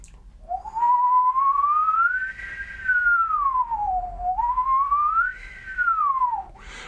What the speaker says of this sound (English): if you can whistle, you start low and then you want to go higher in a kind of glissando